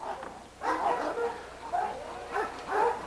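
Dogs in a kennel yard give short yips and whimpering barks in a few bursts, fairly close, with low background noise between them.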